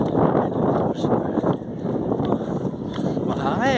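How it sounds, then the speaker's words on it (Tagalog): Gusty wind buffets the microphone during an outdoor barefoot run, rough rumbling bursts that rise and fall under a runner's voice, with breathing and footfall thuds in the mix. "Mahangin."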